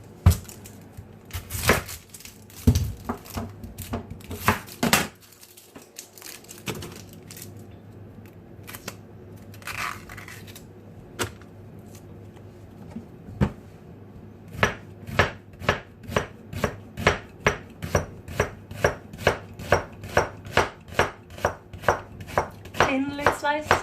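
Knife thinly slicing red onions on a board: close, crisp chopping strokes, irregular at first, then a fast steady run of evenly spaced cuts, with dish clatter around them.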